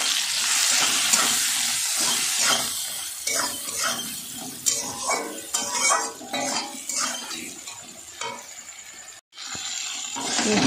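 A vegetable curry with salt and turmeric sautés in a hot pan. A loud, continuous sizzle runs under repeated scraping and stirring of a spatula against metal, close up, and it briefly cuts out near the end.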